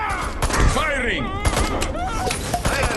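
Gunfire in the video game Destroy All Humans! 2: Reprobed, a few sharp shots and thuds landing among shouting game voices and music, close and punchy but partly buried under the talk.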